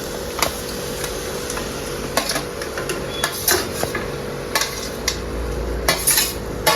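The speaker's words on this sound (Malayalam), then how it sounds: "ഞണ്ട് മൊത്തം ഇതിലോട്ട് കൊട്ടിയിടണം" Pieces of crab are tipped into a pot of crab curry gravy in a home kitchen. Scattered clicks and light clatter run over a steady background hum, with no talking.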